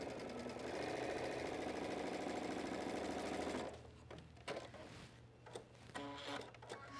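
A sewing machine stitches a men's dress shirt sleeve, a loud, rapid, even whir for about three and a half seconds, then it stops and quieter fabric handling and clicks follow, with no voices.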